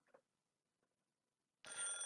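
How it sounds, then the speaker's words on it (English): A telephone in a hallway in a visual novel game starts ringing near the end, a sudden loud electronic trill after a near-silent stretch with a few faint ticks. "I rarely used it since I had a cell phone, but it was ringing now."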